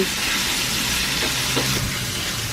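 Garlic fries and simmers in a home kitchen pan, a steady close sizzle with bright crackle running unbroken throughout, no voices over it.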